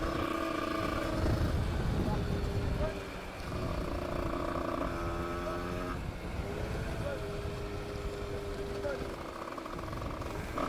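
An 80cc moped with an aluminium top end revs hard, its engine tone climbing in steady rising sweeps close by, while a person talks over it.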